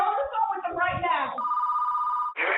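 A telephone rings during an emergency call to 911, a steady electronic ring tone following a stretch of talking, then cutting off and briefly resuming near the end.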